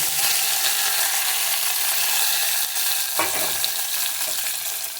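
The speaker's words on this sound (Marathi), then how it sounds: "जो आपण बारीक चिरलेले कांदा, टोमॅटो आणि कोथिंबीर होती ती एकत्र ॲड करायची आहे." Finely chopped onion, tomato and coriander fry loudly in a pan tempered with curry leaves for moong dal, a dense steady sizzle that briefly dips partway through as the food is stirred.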